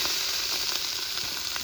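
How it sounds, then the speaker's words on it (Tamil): Small shallots drop into hot oil for a mushroom kurma, producing a close, steady sizzle with light crackles. "அதனால எண்ணெய் ஊற்றிக்கிட்டேன். அடுத்தது வெங்காயம் போடுறேன்."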